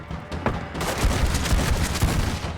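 Gunshots in the Red Dead Online video game, a dense burst of heavy firing that builds after a brief lead-in and keeps booming and crackling loudly throughout.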